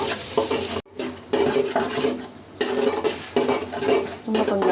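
Washed cashews sizzle in hot oil in a pan with spices while a metal spoon stirs and scrapes, clattering against the pan in uneven bursts with a short silent break early on.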